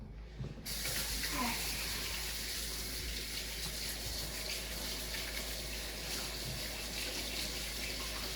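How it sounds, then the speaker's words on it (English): A kitchen tap runs steadily as hands are washed beneath it, a close, continuous splashing gush that starts abruptly and continues without pause, with no talking. "I just like to wash my hands for long"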